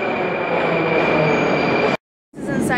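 A Moscow metro train arrives at the station with a loud, steady rumbling roar and a high whine, then cuts off abruptly before more rail noise returns.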